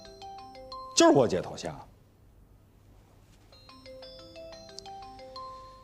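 A mobile phone ringtone plays a bright, repeating electronic melody, interrupted by a burst of speech before the chiming tune resumes more quietly under the room.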